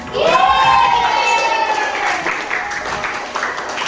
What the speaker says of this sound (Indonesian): Tepuk tangan buat Ajica